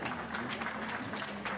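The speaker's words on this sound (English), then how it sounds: "Lots of applause for Philippe Prette," Scattered applause at a GT2 European Series race at Misano for a class winner, fairly quiet and distant, with individual claps standing out over a low steady hum.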